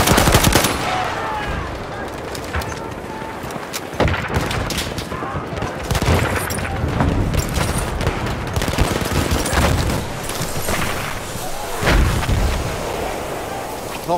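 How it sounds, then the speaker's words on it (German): Sustained machine gun fire in the World War I shooter Battlefield 1 in the Argonne Forest, loud rapid bursts mixed with explosions and battlefield din, with German voice callouts heard over the fighting. "Maschinengewehr gesichtet!"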